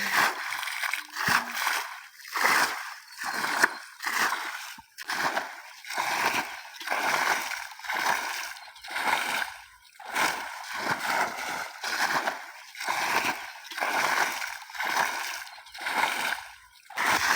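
Rainwater splashes and sloshes as it is cleared from a flooded wheat field during the rainy season. Close, rhythmic bursts repeat roughly once a second, with quiet gaps between them.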